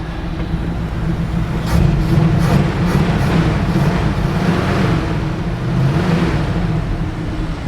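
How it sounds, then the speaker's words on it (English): A 1969 Camaro RS V8 engine idles with a low steady rumble, and a faint rapid lifter-chatter ticking from the left bank runs over it, loud and close. "I heard a little bit of lifter chatter in the left bank when we first started up"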